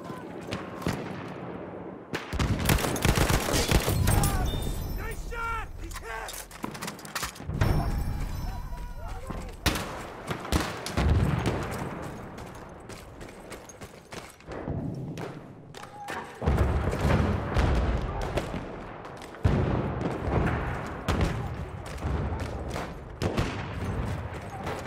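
Battlefield 1 combat. Dense bursts of machine gun fire and thudding explosions fill a loud, chaotic battle, with voices shouting over the gunfire.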